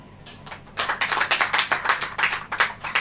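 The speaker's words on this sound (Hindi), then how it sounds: "ताली बजाइए।" A church congregation claps hands after a quiet start, breaking into loud, close, rhythmic clapping in a steady regular beat.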